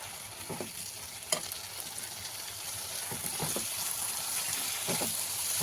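A spice masala of turmeric, salt, cumin and coriander powder fries in oil for soybean curry, hissing softly under repeated scraping and tapping of a spoon stirring the pan, close by and with no talk.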